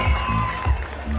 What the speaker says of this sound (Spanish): El aplauso para mi amiga,